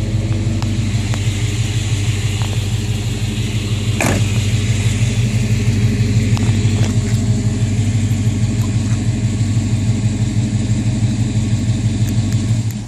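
A 1995 GMC 1500 pickup's engine idles steadily up close, a loud, even low rumble with a faint ticking throb that holds for the whole stretch, briefly joined by a sharp click.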